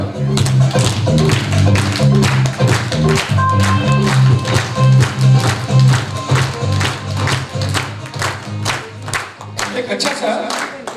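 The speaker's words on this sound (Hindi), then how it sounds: "ताली बजाओ।" An audience at a leadership development program in India claps rapidly and steadily for the full stretch, with a low tonal hum or music running underneath.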